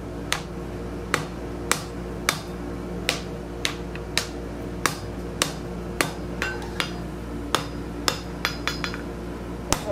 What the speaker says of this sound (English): we're going to hammer this straight back